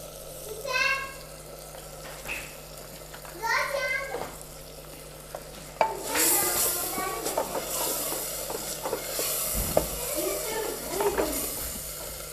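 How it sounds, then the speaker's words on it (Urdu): Chili powder, salt, coriander, turmeric and tamarind fry in a pan for dal kofta, soft sizzling broken by scraping spoon strokes, with speech early on and a loud clatter near the middle. "تمام مسالوں کو اچھی طرح بھون لیں گے۔"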